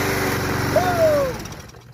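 MTD Yard Machine 21-inch lawn mower with a 6.75 Briggs & Stratton 190cc engine running loud and close, its chugging drone cutting off abruptly near the end, with a brief vocal exclamation in the middle.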